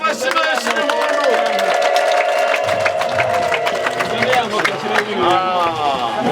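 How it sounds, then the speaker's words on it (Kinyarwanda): Applause mixed with high, trilling ululation from a crowd at the opening ceremony of a new church in rural Rwanda, loud and sustained throughout with dense clapping and wavering vocal calls. "Imana muhe amashyi menshi n'impundu."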